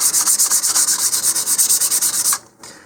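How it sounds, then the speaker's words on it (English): 220 or 320 grit sandpaper scraping back and forth along a seam of an Estes Hi-Flier XL model rocket, with fast regular rubbing strokes, close and steady, stopping abruptly near the end. "I suggest using some 220 or 320 grit sandpaper. You can sand that seam"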